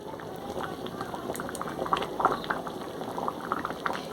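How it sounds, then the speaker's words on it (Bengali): Rice and lentils boil in a pot for khichuri with a soft, steady bubbling and scattered small pops, fairly quiet and close, with no voices. "আমি চাল ডাল সব কিছু খুব ভালোভাবে সেদ্ধ করে নিয়েছি"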